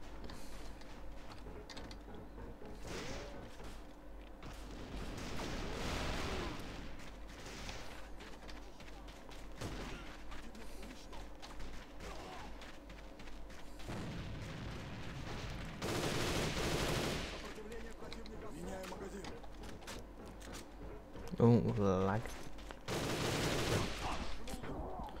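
Gunfire in the online shooter game Alliance of Valiant Arms comes in repeated bursts of rapid automatic shots, moderately loud over ambient game sound.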